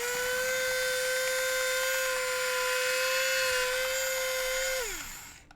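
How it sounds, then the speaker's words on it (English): A small high-pitched drill whines steadily as it bores into soft metal, then spins down and stops near the end. "I need to drill a hole in that, so directly where the peg used to be"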